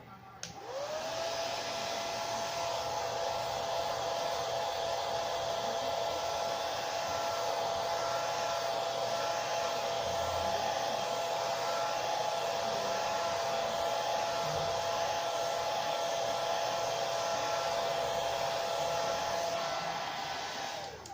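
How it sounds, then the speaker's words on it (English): Hair dryer blows steadily for about twenty seconds, a loud, close, constant whoosh with a steady high whine, switching on at the start and cutting off at the end. "now I'm going to blow dry again."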